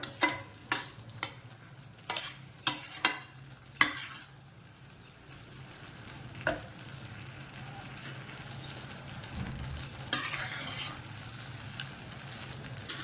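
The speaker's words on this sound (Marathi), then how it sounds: "छान असं तूप सुटेपर्यंत आता आपण याला परतून घेऊया" Carrot halwa being stirred and fried in ghee in a pan, with irregular scraping stir strokes over a steady low sizzle, busier at the start and again near the end, no talking.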